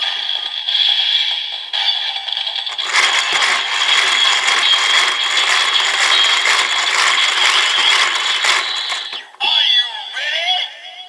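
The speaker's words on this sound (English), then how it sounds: "you're going to want to crank the handle enough to activate the transformation" A rapid ratcheting crank on a Kamen Rider Build DX Build Driver toy transformation belt rattles continuously for several seconds, loud and close, ending with a burst of electronic toy sound effects.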